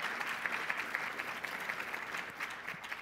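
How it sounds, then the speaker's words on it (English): An indoor audience at an education accelerator demo day claps in a dense, even round of applause, steady and mid-distance for a few seconds. "Let's give them one more round of applause."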